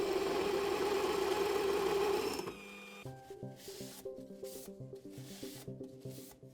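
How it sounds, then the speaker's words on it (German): A drill bores into metal lubricated with a drop of drilling oil, a steady dense whine for about two seconds before it stops, followed by lighter rhythmic mechanical clicking and tapping. "Ein Tropfen Bohröl und schon geht der Bohrer viel geschmeidiger durchs Metall."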